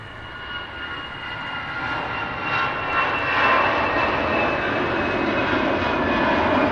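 A departing aircraft at Manchester Airport, a broad roaring engine rumble that swells gradually and stays loud and sustained, heard from a moderate distance with no talk.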